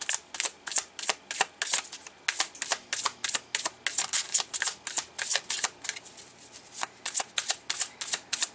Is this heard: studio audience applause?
no